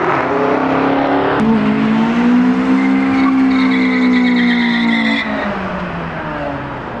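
A 1992–93 Acura Integra GSR pulling hard, its engine tone climbing loud and close while the tires squeal steadily through the run before the sound eases off near the end.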